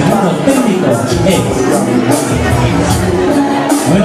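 A live audience at a school pageant applauds and cheers for a candidate being presented, a steady roar of clapping and crowd noise with occasional whoops across the whole stretch.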